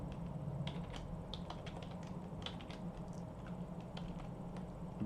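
Typing code on a computer keyboard, a fast, uneven patter of key clicks close up over a low steady hum, continuing throughout with no voices.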